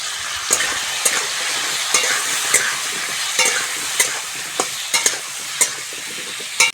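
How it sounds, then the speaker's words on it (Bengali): Potatoes with salt and turmeric frying in a pan, a continuous sizzle punctuated by repeated sharp knocks and scrapes of a spatula stirring at irregular intervals. "আলুটা ভালো করে ভেজে নিয়েছি"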